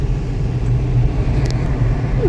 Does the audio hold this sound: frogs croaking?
no